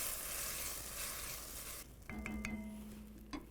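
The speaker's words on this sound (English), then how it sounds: "I'm just gonna take this and we're gonna stir it all together." Braised chicken thighs with a can and a half of puree being stirred in a pot, a steady dense sizzle and scraping for the first half, then quieter, with a few brief clinks and a low hum near the end.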